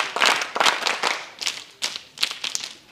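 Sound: audience clapping in welcome

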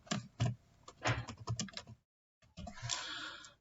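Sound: typing a command on a computer keyboard

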